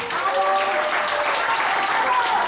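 Audience applause at a poetry day event, sustained, fairly loud clapping from a crowd throughout, with faint voices mixed in.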